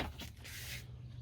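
Keter Conquer plastic garden shed door being opened, a short close scrape and rustle of the plastic panel lasting about a second, followed by a quiet background hum.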